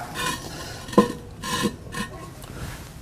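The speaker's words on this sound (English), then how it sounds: "We have a miniature fire bowl that will sit right down inside the base" Ceramic fire bowl lowered into the base of a Kamado Joe Jr. grill, producing a couple of dull scraping knocks and a hollow ceramic clunk, close and moderately loud.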